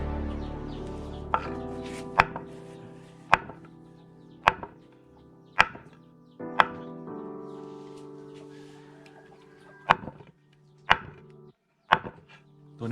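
Eel is chopped on a board for an Akha-style spicy stir-fry. About ten sharp, loud chops land close up at an irregular pace, with quiet gaps and faint background tones between strikes.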